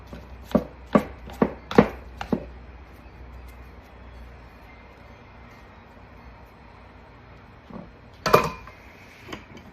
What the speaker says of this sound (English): I didn't have mini, so I just cut my big ones up.